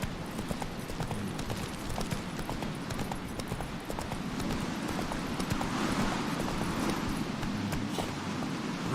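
Roach, Geralt's horse in The Witcher 3 game, galloping with a steady rapid clip-clop of hooves over a continuous rumbling ambient bed, close and fairly loud throughout.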